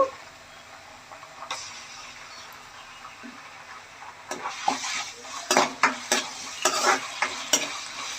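Onions and ginger paste frying in oil for a fish curry with raw mango. A quiet sizzle runs throughout, then a quicker run of spoon scrapes and clinks against the pan takes over in the second half.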